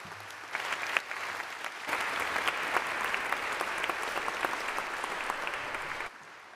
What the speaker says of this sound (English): Would you please give them a hand?